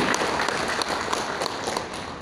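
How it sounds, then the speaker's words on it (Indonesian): Audience applause for 52 teachers at an education ceremony, brisk clapping from a crowded room that holds steady for a couple of seconds. "Dan berikan tepuk tangan yang paling meriah untuk"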